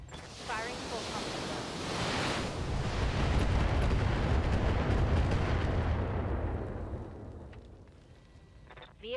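BattleTech mech firing its full weapon complement, a long roaring barrage of missile launches and explosions that swells, sustains, then fades, with a sharp burst at the end.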